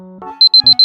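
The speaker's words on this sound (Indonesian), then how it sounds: "alarm kamu berbunyi" A phone alarm goes off at 5 a.m., a few soft tones giving way to loud, close, evenly spaced high beeps repeating in quick succession with no one speaking.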